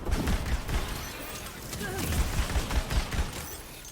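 A video game weapon empties a full magazine in a sustained, rapid burst of gunfire lasting several seconds, with a steady rhythmic pulse of shots and some mechanical clatter, fairly loud throughout.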